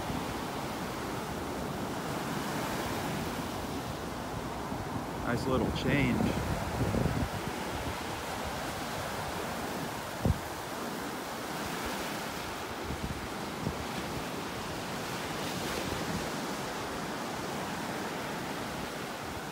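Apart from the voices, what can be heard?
ocean waves on the beach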